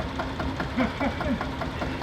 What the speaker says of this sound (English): A22, 1949. Single cylinder, 4-stroke engine.